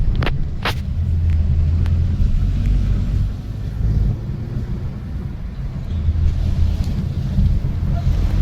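A car moves slowly toward parking near a temple, giving a steady low rumble with wind buffeting the microphone throughout and a couple of sharp knocks near the start.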